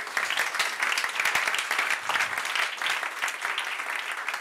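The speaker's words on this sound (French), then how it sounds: "Applaudissements pour Céline." An audience at a company evening event applauds in a dense, steady burst of clapping that stays loud for several seconds, with no talking over it.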